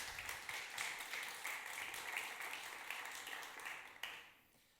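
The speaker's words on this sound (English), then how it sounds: "So please give a warm round of applause and welcome the speakers." An audience at a security conference applauds to welcome speakers to the stage, a fairly faint, steady patter of many hands that gradually fades, then ends with a brief final burst.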